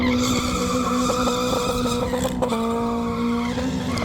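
Drift car engine bouncing hard off the rev limiter at a King of the Cone drifting event, a loud continuous stuttering buzz with tire squeal layered in, steady throughout.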